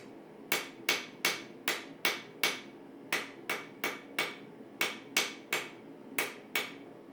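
Steady hammer blows ring out on hot steel being forged into a taper, about two strikes per second with brief pauses, each a sharp metallic clang that quickly decays, close and clear.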